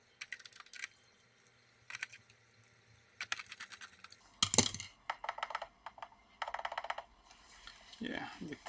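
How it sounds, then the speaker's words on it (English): A key on an Acer Aspire 5750G laptop clicks in a series of sharp, close taps separated by short gaps, with a brief louder clatter midway and some handling noise near the end. "Yeah, the key is clicking,"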